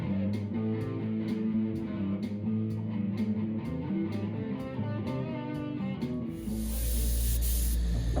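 Airbrush hisses paint onto a plywood bear cutout for an ice cream stand, a soft steady spray under background music that swells into a louder, broader hiss near the end.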